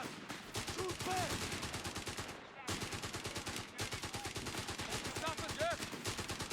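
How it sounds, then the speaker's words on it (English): Rapid gunfire from the WWII strategy game Company of Heroes 3 crackles almost continuously, dense repeated shots in bursts with a brief lull near the middle, with soldiers' voices calling out underneath. "Cowards are shooting at us! Shoot back!"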